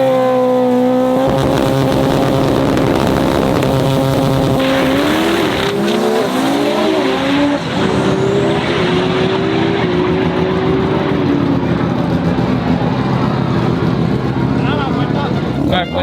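Yoshi Racing's F20 import drag car, part of a 3000 hp RB30 event, roars loud and close through a sustained high-revving run with rising engine pitch and tire noise, as a voice talks over it.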